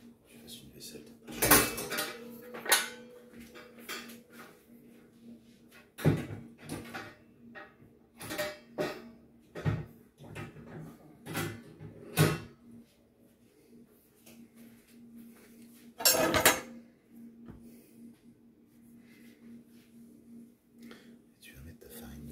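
Dishes, pots and cutlery clatter and clink in a kitchen sink during washing up, scattered sharp metallic knocks and scrapes with gaps between, alongside quiet whispered talk and a faint steady hum.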